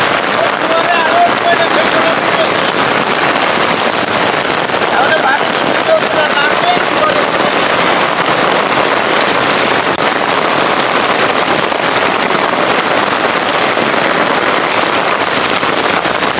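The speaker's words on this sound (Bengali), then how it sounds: "প্রচুর বৃষ্টি হচ্ছে" Heavy rain pours over a flooded area of Khulna, producing a dense, steady hiss that stays even and unbroken for the whole stretch.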